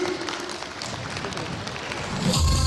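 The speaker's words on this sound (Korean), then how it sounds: "박수 좀 보내주세요" Audience applause at an outdoor Disabled Persons' Day festival with a trot singer on stage, steady crowd clapping over an ambient wash, with music swelling in near the end.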